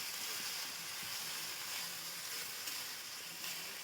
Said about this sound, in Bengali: আদা রসুন বাটা দিয়ে দিলাম, দিয়ে আদা রসুন বাটাটা ভালো করে ভাজবো